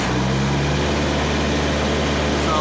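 Truck reefer refrigeration unit on a trailer revving up: a loud, steady engine drone with a low hum and broad mechanical roar, heard up close without a break.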